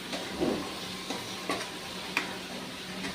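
Onions and spices frying in a pan for cauliflower sabzi are stirred with a spoon, soft sizzling beneath several distinct scraping strokes over a few seconds, close by.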